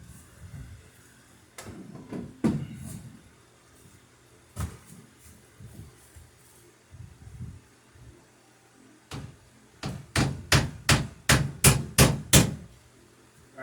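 Hammer blows drive a nail into oak on the transom of an Alpha Dory boat, a few scattered strikes early on, then a rapid run of about nine sharp, close, ringing hits near the end.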